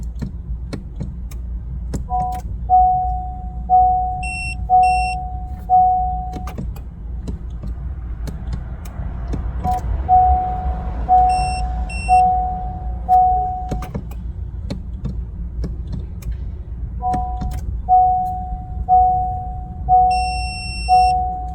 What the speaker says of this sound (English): you will hear the tool long beep indicating the programming is successful